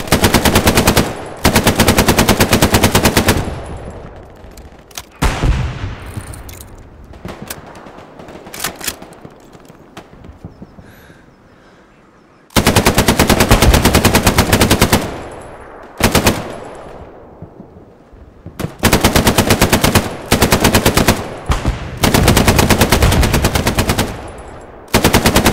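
Machine gun fire in the World War II shooter Hell Let Loose: long, loud, rapid bursts rattle back to back, broken by brief lulls with fading echoes before the firing resumes.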